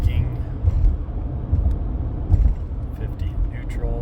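A car's engine hums low and steady from inside the cabin while engine braking at 50 on a downhill grade, with a rumbling drone and a few faint knocks and rattles.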